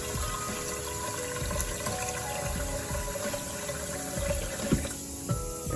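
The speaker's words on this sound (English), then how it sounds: "Add water to your Instapot." Water pours steadily into an Instant Pot for a mushroom-growing brown rice setup, a continuous rushing fill with a few clinks near the end.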